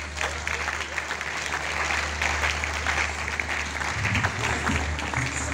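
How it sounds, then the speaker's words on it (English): A business summit audience in Lagos breaks into sustained applause, a dense, steady clatter of many hands clapping together throughout. "giving yourself a thunderous round of applause for yourself"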